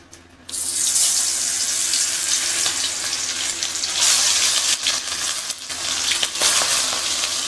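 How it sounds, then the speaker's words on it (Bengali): Hilsa fish fries in hot oil in a pan, a loud, continuous crackling sizzle that starts abruptly after a moment of near quiet and keeps spitting and popping throughout. "দেখো ইলিশ মাছ ভাজা হচ্ছে"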